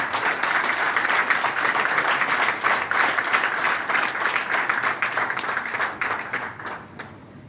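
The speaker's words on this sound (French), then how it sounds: "Est-ce qu'on peut encore applaudir pour les grands savants ici sur la table?" An audience at a lecture bursts into sustained applause, dense clapping holding steady for several seconds before thinning out and fading near the end.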